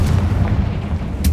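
Confringo fire spell blasts in Hogwarts Legacy, a loud deep booming roar sustained through the clip with a sharp crack near the end, no voices.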